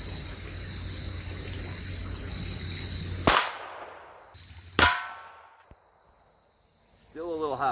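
Two sharp, loud reports from an Advantage Arms .22 LR conversion fired at 25-yard targets ring out about a second and a half apart, each trailing off quickly. Steady outdoor hiss comes before them, and a voice begins at the end.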